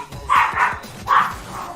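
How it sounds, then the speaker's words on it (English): A dog barks excitedly at home, two quick bursts of loud, close barks separated by a short pause, with faint background noise. "The dog is happy. Probably someone is arriving at home."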